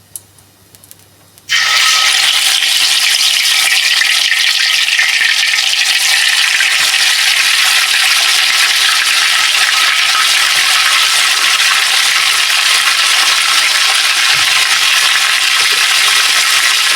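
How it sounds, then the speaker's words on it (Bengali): Hilsa fish pieces dropped into hot oil in a pan, a sudden loud burst of sizzling after a quiet moment, then an intense, steady close frying hiss that holds for the rest of the clip. "মাছগুলোকে হালকা ভেজে নেব।"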